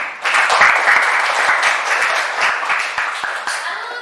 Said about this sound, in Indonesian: kasih tepuk tangan untuk Kia